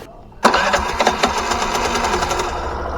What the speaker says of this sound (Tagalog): makuha natin yung kalmadong tunog ng makina